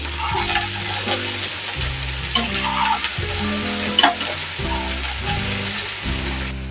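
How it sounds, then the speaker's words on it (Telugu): Okra frying in a pan is stirred, a continuous crackling sizzle broken by spoon scrapes and clinks against the pan, close and moderately loud, with no talking. "బెండకాయలు వేసిన తర్వాత ఇప్పుడు ఒకసారి కలుపుకోవాలి"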